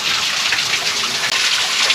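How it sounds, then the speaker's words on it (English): Small waterfall splashing in a desert canyon along a hiking trail with fixed ropes, a steady close rushing and gushing of water heard alone throughout. "I like how some of these rope areas are by little waterfalls, tiny waterfalls."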